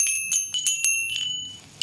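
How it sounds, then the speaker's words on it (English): Two small sound healing bells ring with bright, sustained tones, struck several times in quick succession at close range, their shimmer ringing on between strikes. "my two little bells"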